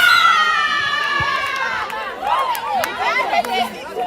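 Spectators at a women's volleyball match between Raven Claw and UZ Wolves cheer and shout, a lively mix of high excited voices and chatter with whoops rising toward the end, partly under a commentator's voice.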